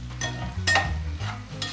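Fish pieces frying in hot oil in a pan, a steady close sizzle with stirring and light clinks of a utensil against the pan, with no talk.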